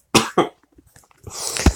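Two sharp coughs near the mic from a person who says they are ill, followed by a rougher throat-clearing cough burst after a brief pause.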